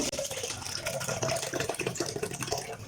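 Water splashes and gurgles steadily into a pot while making ven pongal, a continuous pouring sound close by with no talking.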